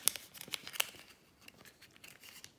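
Paper crinkles and crackles as a 50 euro banknote is folded and creased by hand, a few sharp crisp bursts early on, then softer rustling, close and quiet with no voice.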